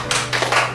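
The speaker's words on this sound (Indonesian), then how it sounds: "kita tepuk tangan 2 kali" Children in a classroom clap their hands in a concentration game, sounding as three quick, sharp bursts close by over a faint steady hum.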